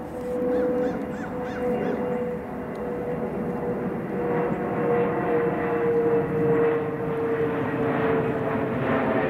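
Geese honking outdoors on New Year's Day while foraging after a deep freeze, faint calls under the steady drone of a passing airplane overhead.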